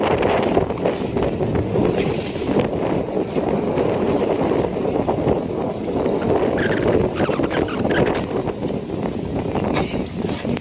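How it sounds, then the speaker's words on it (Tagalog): Strong typhoon wind (Typhoon Kabayan, Surigao, Philippines, December 2023) roars and buffets the microphone continuously, a dense rumbling rush with no speech. "malakas na hangin"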